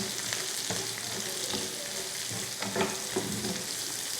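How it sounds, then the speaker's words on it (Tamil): Shredded cabbage sautéing in a hot pan, a steady sizzle with occasional stirring scrapes and clacks, close and continuous with no talk. "அதையும் லைட்டாக வதக்கிடுங்க."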